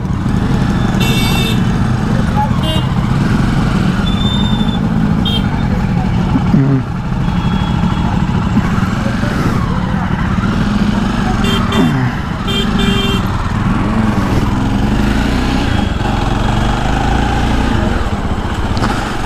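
A Jawa Perak motorcycle engine runs continuously while the bike is ridden through traffic, a loud, steady mechanical drone with wind buffeting, and someone talks over it at times.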